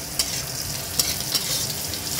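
Carrots and beans stir-fry in a hot pan for Chinatown-style mixed fried rice, giving a bright continuous sizzle with a few quick scraping stirs, close and unaccompanied by speech.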